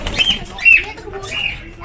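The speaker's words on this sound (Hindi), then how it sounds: "कबूतर मेरे हाथ में आ गया" A pigeon held in a hand flaps its wings in short bursts, making several quick, close feathery flutters. No one speaks.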